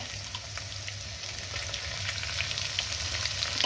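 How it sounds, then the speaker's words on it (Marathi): Cumin seeds crackling in hot oil as a chilli and garlic paste starts sizzling, a steady close frying hiss with sharp pops scattered throughout, no voices. "तापली आहे तेल पण तापलं आहे जिरे तडतडत आहेत आता आणि आता मी यामध्ये ही पेस्ट घालणार आहे"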